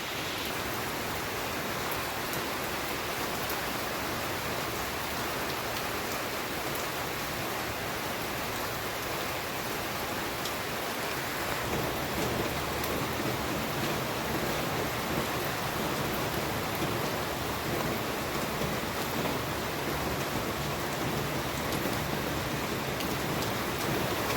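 Heavy rain pours down in a dense, unbroken hiss that stays steady throughout, with no voices.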